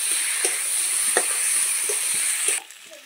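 Potatoes with ground ginger and turmeric powder fry in oil in a pan for a dal and egg dish, giving a steady loud sizzle with faint stirring taps, until the hiss suddenly drops off near the end.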